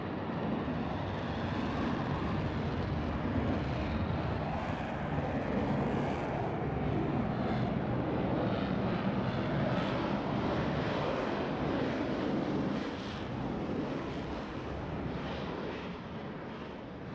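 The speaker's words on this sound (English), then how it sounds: "all four pilots will simultaneously roll their aircraft 360 degrees as they perform the Diamond aileron roll" Jet engines roar in a steady, broad wash as four Blue Angels jets fly the Diamond aileron roll in a Roblox game, holding a sustained loud rumble that eases slightly toward the end.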